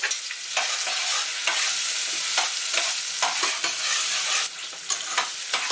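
Onion and garlic fry in a pan for Trini-style geera pork, stirred constantly so that a bright sizzle is broken by repeated scraping strokes of the spoon, close and fairly loud.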